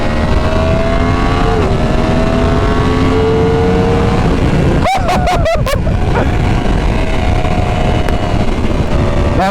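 A motorcycle engine revs and drones while riding, loud and continuous under heavy wind rush, with pitch rising through gear changes and a few quick blips partway through.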